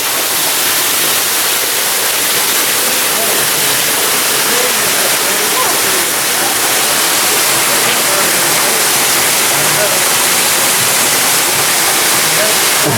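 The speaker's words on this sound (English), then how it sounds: "We're in the cave behind the waterfall now." A waterfall heard from inside the cave behind it, a dense, loud and steady roar of rushing water that fills the whole space without pause.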